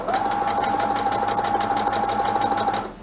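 Sewing machine running steadily across fabric with a rapid, even needle chatter and a humming motor tone, close and loud, stopping just before the end.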